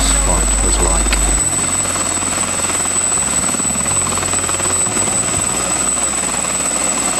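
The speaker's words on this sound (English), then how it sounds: "this is an Army section which came into school with their helicopter" An Army helicopter visiting a school runs with a loud, steady rotor and engine roar that fills the whole stretch, with voices talking faintly beneath it.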